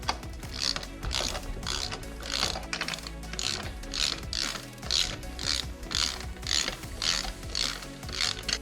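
Ratchet wrench tightening the sprocket nuts on a motorcycle during a chain and sprocket replacement, a steady rhythmic series of close, crisp clicking strokes with no talk.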